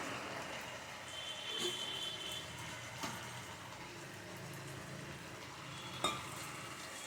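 Boiled potatoes dropped into a pan for a vegetarian banana-stem curry, frying with a faint steady sizzle and a few soft stirring knocks, heard alone at low level.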